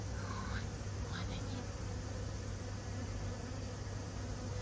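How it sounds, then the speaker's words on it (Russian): Bees gathering nectar from flowers by a fence hum in a faint, continuous buzz over a steady noisy background, with a few passes coming slightly nearer. "Пчелы собирают нектар."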